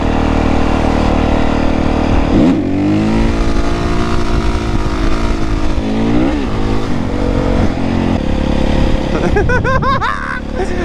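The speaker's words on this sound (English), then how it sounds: "I think I can do a wheelie here." A supermoto motorcycle pulls a wheelie, its engine loud and close, revving hard with pitch that climbs, drops and surges again, ending in rapid throttle blips.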